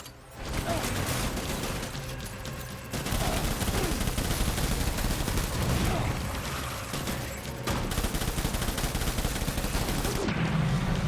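Continuous bursts of gunfire and explosions from the Death Stranding video game, a dense, loud battle din of rapid shots with brief gaps, mixed under occasional voices.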